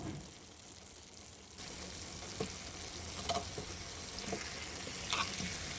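Green chilies with cumin and mustard seeds fry in a hot pan, giving a steady close sizzle and crackle that grows slightly louder partway through, with a few sharper pops and no talking.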